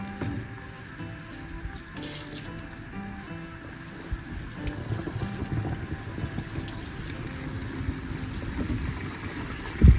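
Soapy water splashes and trickles steadily, close by, as it is poured into a Range Rover Evoque's windscreen washer reservoir, a rushing liquid sound that grows a little busier partway through.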